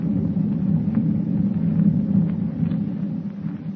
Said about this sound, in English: With thunder rolling across the dark ocean like a warning of impending doom